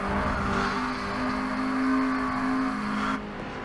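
Race car engine droning steadily in a racing video game at Bathurst, a sustained mid-pitched whine that rises and falls slightly before cutting off sharply near the end.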